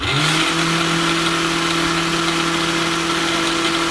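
An AL-KO GT 4030 36V cordless string trimmer spins at full speed with a steady, loud, close motor whine and a buzzing hum that holds evenly throughout.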